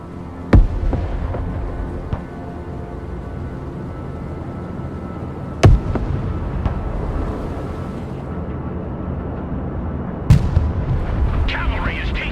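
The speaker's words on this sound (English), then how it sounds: "Let's go and bring in some artillery to soften some stuff up before we start moving our guys in." Artillery barrage in the video game Broken Arrow, three sharp booming impacts spaced several seconds apart over a low continuous battle rumble, with a few lighter distant thuds between them.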